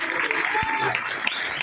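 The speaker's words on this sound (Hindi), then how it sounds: "मैं चाहता हूँ मनोज सर के लिए जोरदार तालियों से" An audience claps for a speaker at a direct-selling event, a steady wash of applause under a voice talking over it.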